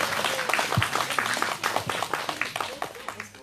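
Applause from an outdoor candlelight rally audience, scattered claps at a moderate distance with a few voices underneath, steady for a few seconds.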